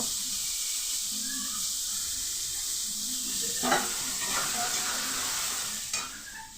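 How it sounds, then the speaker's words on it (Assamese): Steady sizzling of soybeans frying in a heavily used wok, with a couple of sharper scraping stirs near the end; no voices. "এবাৰ চয়াবিনখিনি লাল লাল কৰি ভাজি ল'ম।"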